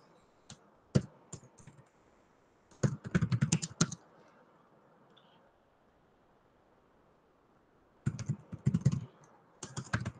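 Bursts of rapid typing on a computer keyboard in a logic lesson, close-up clicking clusters separated by quiet pauses.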